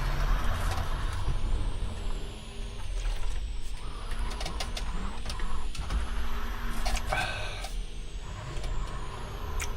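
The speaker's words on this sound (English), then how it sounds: "we got weird trucks doing weird truck stuff all around outside the van" Trucks moving around outside a van in the BeamNG driving game, with a continuous engine rumble, hissing air-brake bursts and beeping tones over a steady, loud mechanical drone, no talk.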